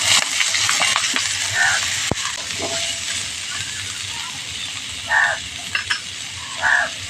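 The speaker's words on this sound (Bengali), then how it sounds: "এই তেলের মধ্যে কেটে রাখা সবজিগুলো সব দিয়ে দিচ্ছি।" Chopped vegetables, including beetroot, tossed into hot mustard oil for vegetable chops, sizzling and hissing steadily at close range, with a sharp clink and a few brief bursts of louder spattering.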